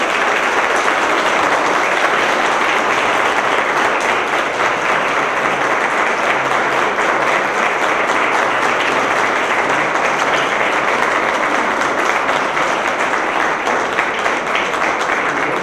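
Sustained, loud applause from an audience at a formal agreement-signing ceremony between INFO and COPRED fills the room, a steady dense clapping that continues without pause.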